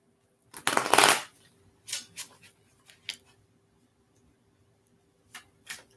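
Tarot cards are shuffled close by: one loud riffling burst, followed by a few softer taps and shuffles as the deck is squared, then near silence broken by two faint clicks.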